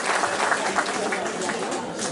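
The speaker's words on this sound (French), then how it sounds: "Je crois qu'on peut applaudir Claudio Capucci" Audience applause at an evening event for a cycling race in Thiberville, honouring a champion cyclist. Moderate, steady clapping runs throughout with some crowd noise.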